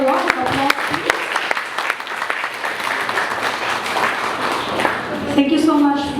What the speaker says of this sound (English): can we give our speakers another round of applause, please?